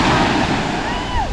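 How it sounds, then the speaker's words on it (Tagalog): Strong waves rolling in at Saud Beach in Pagudpud on a windy morning, a loud, steady broadband wash of surf with gusting wind noise close to the microphone. "At ang lakas din pala ng alon"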